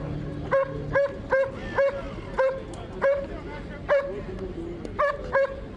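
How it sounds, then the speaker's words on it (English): Police dogs barking in a steady series of sharp, evenly spaced barks, close and loud, with some voices in the background. "Fierce-looking dogs"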